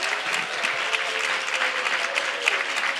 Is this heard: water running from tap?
no